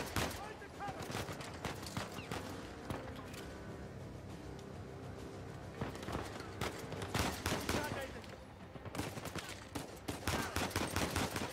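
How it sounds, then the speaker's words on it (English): Gunfire bursts from the Uncharted 4 video game, dense and rapid volleys running steadily throughout, with a voice talking over the shooting. "I love the shooting mechanics in this, man."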